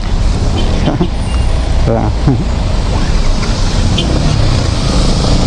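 Heavy road traffic in the rain, heard while riding on the road: a steady, loud wash of engines, tires on wet pavement and rain noise throughout, with brief horn-like tones and a voice speaking over it.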